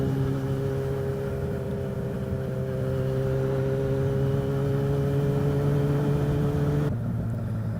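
A Yamaha XJ600 motorcycle's small four-cylinder engine runs at a steady drone for several seconds, holding a smooth even tone before the pitch drops sharply near the end, with no talking.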